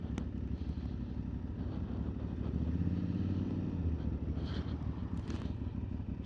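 An Aprilia Tuareg 660 adventure bike on a mountain ride holds a steady, fairly quiet engine drone with rumble and wind buffeting throughout, the note rising and falling slightly as it travels.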